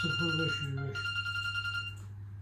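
A mobile phone rings with an incoming call inside a village home, its steady electronic tone sounding throughout while people talk over the first second.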